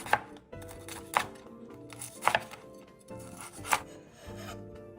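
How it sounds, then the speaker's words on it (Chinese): A knife chops through crisp, freshly fried pork on a board, cutting thick slices; four sharp, crunchy cuts spaced about a second apart, close and clear, with light rustling between and no talking. "趁热将肉切成厚片"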